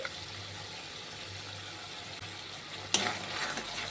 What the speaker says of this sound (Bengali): দইটিকে দিয়েও মশলার সাথে একটু নেড়ে ছেড়ে নেব।